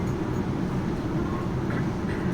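South Western Railway train running on the line from London Waterloo to Basingstoke, a steady low rumble of wheels and carriage noise heard from inside, continuous and even throughout with no voices.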